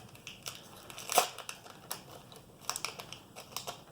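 A Detective Pikachu Charizard GX Pokémon TCG box cut open with a blade, giving close, sharp scratchy cuts and crinkly slicing bursts at an uneven pace, without any voices.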